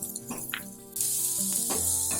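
Ginger garlic paste hitting a hot pan for a veg roll: a sudden loud sizzle bursts in about a second in and holds steady, close and continuous.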